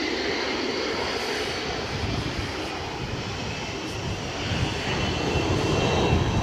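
Airliner jet engines roar steadily at Edinburgh Airport as a large Delta jet readies to line up on the runway, a continuous broadband rumble that swells slightly louder toward the end, with no talk.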